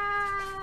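A black cat gives a single clear, drawn-out meow, close and fairly loud, with no talking over it.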